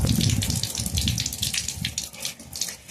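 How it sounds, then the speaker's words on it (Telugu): Water runs from a turned tap into a sink, a continuous close splashing gush that holds steady for a few seconds with no talk. "ఇంక తిప్పు ఇంకా ఆపై నీళ్ళు పోతాయి"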